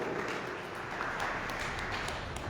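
A church congregation at Sunday Mass for the Feast of the Holy Trinity claps together, a dense, even wash of applause sustained throughout at moderate loudness.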